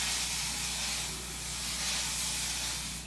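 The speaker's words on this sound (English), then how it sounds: "I'm just gonna go in and add more spray." Hairspray hisses continuously from an aerosol can onto hair while a sleek mid ponytail is styled, a close, loud, steady spray lasting the whole stretch with no talking.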